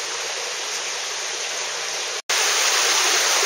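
A waterfall on the Takatsugawa river pours with high water flow after rain, a loud steady roar of rushing water that cuts out for an instant before resuming.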